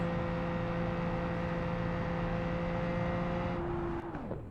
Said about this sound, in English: The engine's kind of loud and ugly sounding.